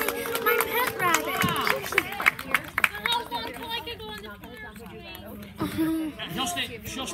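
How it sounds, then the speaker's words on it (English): Party guests at a child's birthday party clap in scattered bursts, mixed with children's voices and lively chatter throughout. "a nice round of applause"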